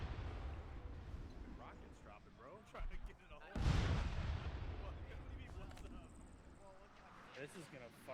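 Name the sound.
incoming rocket artillery explosions in a video game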